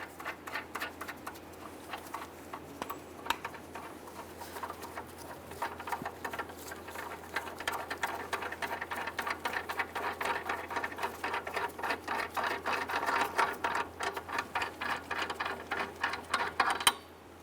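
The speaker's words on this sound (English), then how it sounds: "go ahead and remove the lug nuts" Lug nuts come off the front wheel of a 1994-2004 Ford Mustang with a rapid ratcheting, whirring tool sound, a dense rattle that builds steadily louder over the stretch before stopping abruptly.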